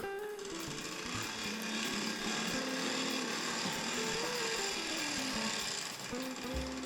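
A Tri-ang B12 model locomotive's small electric motor runs forward with a raspy, buzzing drone and shifting pitch, steady and fairly quiet throughout.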